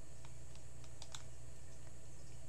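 Mouse clicks and keyboard taps while drawing with a pen tool, faint scattered clicks over a steady low hum with no talk.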